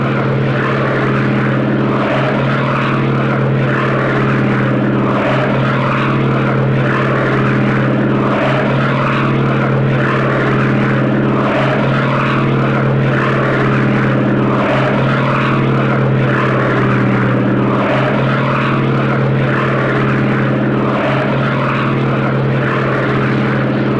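A Kyushu J7W Shinden propeller aircraft in a flight video game, landing with one notch of flaps at just over 100 knots, its loud, steady droning engine hum continuous and close throughout.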